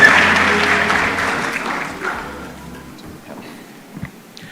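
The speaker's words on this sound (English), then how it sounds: "Round of applause." An award ceremony audience gives a round of applause for young scientists, loud clapping at first that gradually thins and fades over a few seconds.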